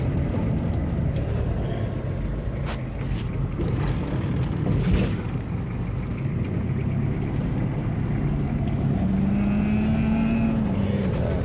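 Toyota Kijang diesel with an auto-clutch conversion cruising in third gear: a steady engine drone with road and wind rumble inside the cabin, and a brief rising whine near the end.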